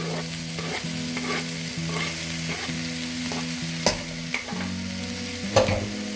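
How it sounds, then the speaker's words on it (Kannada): Tomato, salt and chilli powder being stirred in a frying pan for oats kara bath, with a steady sizzle under scraping spoon strokes and a few sharper clinks against the pan. "ಟೊಮೆಟೊ ಮತ್ತು ಉಪ್ಪು ಇದಿಷ್ಟು ಮಿಕ್ಸ್ ಮಾಡ್ಕೊಳ್ಳಿ"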